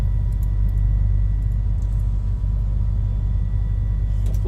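Piston engine of a Black Square Piston Duke twin-engine aircraft at full throttle in Microsoft Flight Simulator 2024, a steady, loud, deep droning rumble that holds constant throughout with no talk over it.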